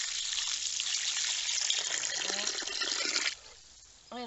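Water from a kitchen basin pours steadily into a garden planting hole, a continuous close gushing splash that stops abruptly, followed by quiet outdoor background.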